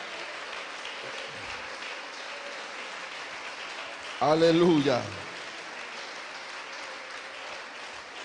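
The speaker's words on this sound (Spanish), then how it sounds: "Denle ese aplauso al Señor Jesús." A church congregation bursts into a short round of clapping and cheering, about a second long, rising out of a quiet room where a preacher's voice speaks before and after.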